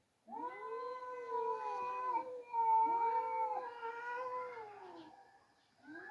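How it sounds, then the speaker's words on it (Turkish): A black cat meowing in long, drawn-out wavering cries, several calls in a row, loud and close with no talking. "Konuşuyor la kara kedi."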